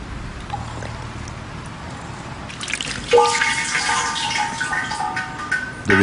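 Water drips into a jar buried underground in a Japanese garden ornament, with a resonant, hollow echo, ringing tones that sustain and overlap against a quiet background.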